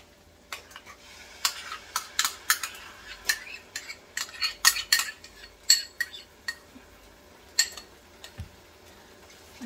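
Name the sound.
mixing yogurt into fish biryani mixture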